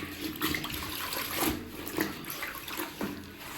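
Clothes are washed by hand in water, giving soft sloshing and splashing with irregular wet slaps and rubbing. The sound is fairly faint and close, with no talking.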